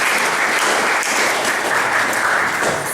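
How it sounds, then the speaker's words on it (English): Dense, sustained applause from a gathering of engineering club members at a general meeting, loud and steady throughout with no voices breaking through. "Big round of applause for you guys."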